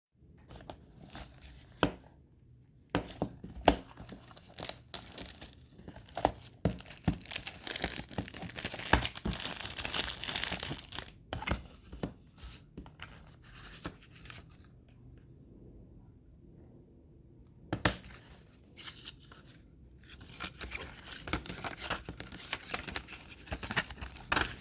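A cassette tape player being opened by hand, heard as a run of close plastic clicks, rattles and crinkly handling noises in short bursts with pauses between them and no talk.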